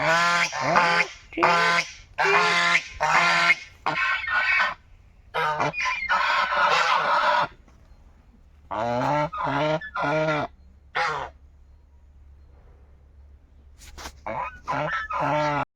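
A bird of the goose family, called a royal swan, calls out in a farmyard field in a run of loud, close, nasal honks in bursts, some quick and some drawn out, with pauses between.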